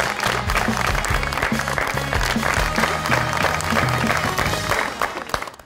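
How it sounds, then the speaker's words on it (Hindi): Studio audience applause on a talk show fills the whole stretch, dense and loud, with a low musical tone running underneath before it tapers off at the end. "बहुत सारी तालियाँ उनके लिए बजाएंगे"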